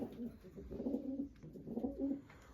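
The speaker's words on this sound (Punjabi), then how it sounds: "ਆ ਗਏ ਬਾਈ ਕਬੂਤਰ ਬਾਹਰ" Pigeons released from a room cooing softly in repeated low, rolling calls, fairly faint and close, with no talking.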